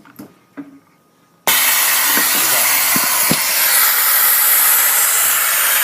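Venturi vacuum press pump for a woodworking vacuum press, charging up with a loud, steady hiss of rushing air that starts abruptly after a few quiet clicks and continues unbroken to the end.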